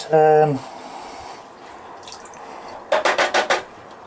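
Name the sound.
acid dripping through a filter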